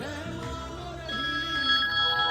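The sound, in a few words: telephone ringing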